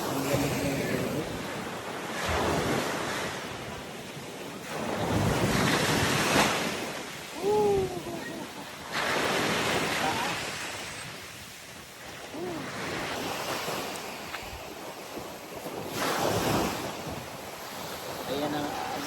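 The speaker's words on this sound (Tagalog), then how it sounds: "Ayan ang alon." Ocean waves at Puka Beach on Boracay Island at midday roll in and wash up the shore in repeated surges every few seconds, loud and close, with some wind on the microphone.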